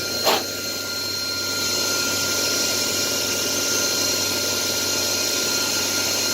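A steady mechanical whir of a center drill running into a metal workpiece, preceded by a brief knock, continuous and fairly loud throughout.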